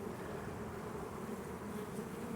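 Honeybees buzz steadily around a concrete beehive, a dense, close, continuous hum with no voices over it.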